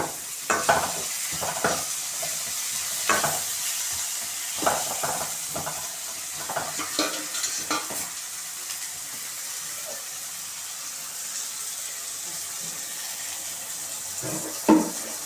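Tomatoes fry in a pan for a tamarind curry with dried manathakkali berries, a constant hiss and sizzle broken by repeated scraping stirs, clustered early and again near the end, close up with no one talking.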